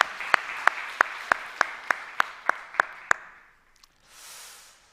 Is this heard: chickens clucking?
no